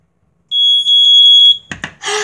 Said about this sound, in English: I'm gonna be inspecting the smoke detectors in my house. That little button, you push it to test.